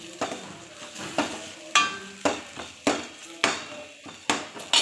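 A spoon stirs sambar masala into food frying in a pan, giving regular scraping clacks about every half second over a soft sizzle, close and clear with no voices.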